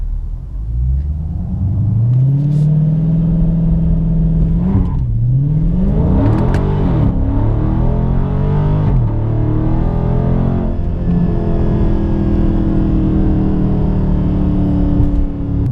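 A car on large all-season tires revs hard while the tires spin during a traction test: a loud, close engine rumble that climbs and wavers in pitch, with whirring wheelspin running steadily and no voices.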